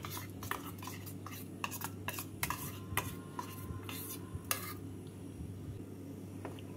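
Mango puree being stirred into boiled tapioca pearls for a dessert, heard as soft wet stirring with repeated light clinks of a spoon against the pot over a steady low hum.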